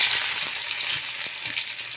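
Onion frying in oil with mustard seeds, a dense crackling sizzle with small pops throughout, close and steady, no talk.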